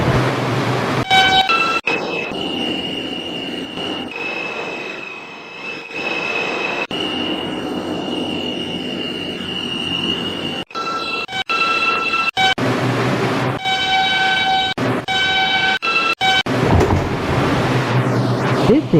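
A New York City subway 2 train, an R142 bound for Wakefield, runs loud and close, with steady rumbling wheels on rail, metallic squealing whines and several abrupt changes in the racket as it moves along.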